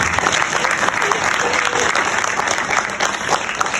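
A brief, steady burst of applause from the audience at the Ms Wheelchair South Carolina Pageant, dense clapping held at an even level throughout with faint crowd noise.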